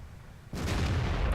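A tank gun fires once in the World of Tanks video game, from a WZ-131 light tank in a tier 10 battle. The sudden loud boom rolls into a broad, rumbling tail.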